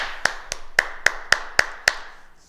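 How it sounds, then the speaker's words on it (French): A group in a martial arts class claps in unison after an exercise, seven sharp, evenly spaced claps close by in a quiet room, with no voices. "On salue et on s'applaudit"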